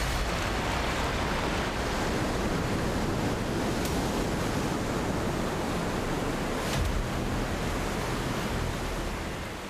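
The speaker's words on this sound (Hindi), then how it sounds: "तेज बहती नदी की आवाज सुन सकते हैं जो किसी को भी यहाँ खड़े रहने पर डराती है" The fast-flowing Alaknanda river rushes out of a glacier mouth as a steady, loud, broadband roar of churning water, unbroken for the whole stretch with no voices.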